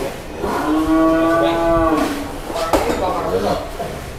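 A large, agitated sacrificial cow moos loudly as it is led out of its pen. The long, drawn-out bellow is close and harmonic, and its tone shifts partway through. Rustling and handling noises follow.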